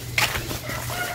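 Chickens cluck briefly while feeding outdoors on a farm, a short close burst of calls over light background noise.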